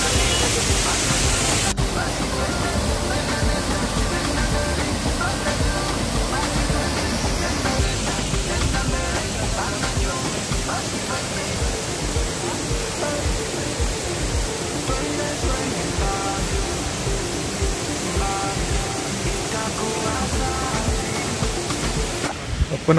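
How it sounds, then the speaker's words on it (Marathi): Ghol waterfall in the Sahyadri mountains, reached on a rainy-season trek, pours with a steady, broadband roar of falling water that stays loud and continuous throughout. "घोळका वॉटरफॉल"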